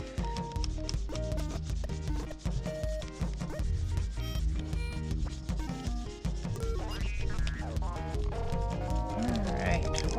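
A crayon rubbed back and forth over the ridged rim of a paper plate gives a continuous scratchy rasping, steady and close, with tonal music playing over it.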